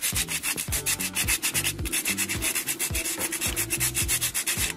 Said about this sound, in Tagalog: lihain nyo yung kantong yan